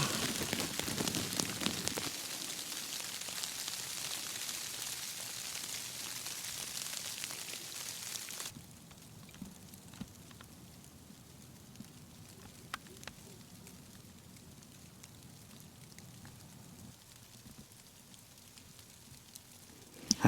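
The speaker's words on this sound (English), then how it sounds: "the sound of sleet and snow and rain peppering down on top of your tent" Steady patter of sleet and rain on a tent, heavy and hissing at first, then softer and lighter with occasional sharper taps.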